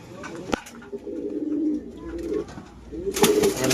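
A pigeon coos softly at close range in low, throaty murmurs, with a few sharp clicks and a rustle near the end.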